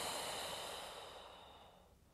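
A long, audible exhale during a pregnancy shoulder-and-back stretching exercise. The airy breath is close to the microphone and fades steadily over about two seconds, with no talking.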